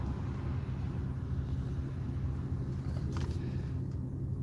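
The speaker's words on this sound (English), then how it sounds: "I don't want too much road noise, so I'm only cracking the windows so much" Inside a parked car with the windows cracked just slightly, a low, steady rumble of road noise seeps in from outside, faint and unbroken with no one talking.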